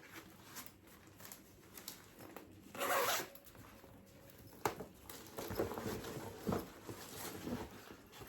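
A zipper on a navy blue bag is pulled open close by: one quick, quiet rasp, then softer scraping strokes as the bag is handled.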